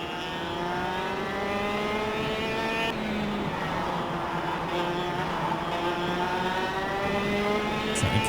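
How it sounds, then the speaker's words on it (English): Racing kart engines in the KartKraft sim whine continuously, rising and falling in pitch as the karts accelerate and whiz past, close and fairly loud with no talking. "I love the sound of those when they go whizzing by."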